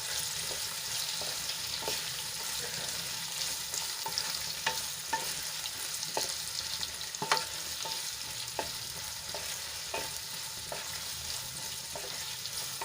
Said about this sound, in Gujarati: અને આપણા કાપેલા તોરિયા એડ કરી દઈશું હવે તેલમાં સરસ રીતે મિક્સ કરી લઈશું